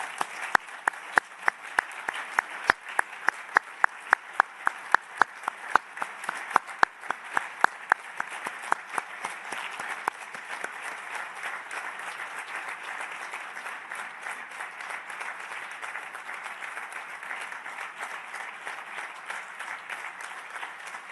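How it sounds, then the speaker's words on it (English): An audience at a UN refugee agency meeting in Geneva applauds; a few sharp individual claps stand out at first, then dense steady clapping from a large hall continues for some twenty seconds at moderate loudness. "Vi chiedo di tutti insieme fare un grande applauso, un tonnerre d'applaudissements per Filippo Grandi."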